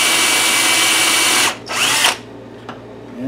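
Power drill whirring at high speed while boring holes to fasten hinges onto a board for mounting a sheet metal brake on a workbench, loud and close, with a brief stop, a short restart burst and a click.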